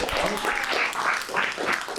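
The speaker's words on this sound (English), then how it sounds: "Round of applause." A live audience at a university talk gives a short round of applause, a steady dense patter of many hands at moderate distance, lasting about two seconds.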